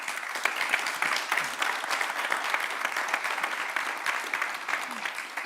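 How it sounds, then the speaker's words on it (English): An audience claps for the panelists in a sustained, dense round of applause, steady and fairly loud throughout, with a voice faintly present beneath it. "Let's give the panelists a round of applause."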